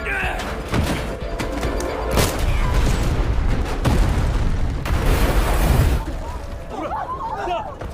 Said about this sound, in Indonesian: Lalu Gisu melemparkan granat ke ruangan tersebut.